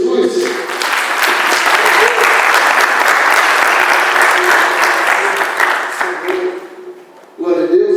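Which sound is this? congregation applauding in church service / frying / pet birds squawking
congregation applauding in church service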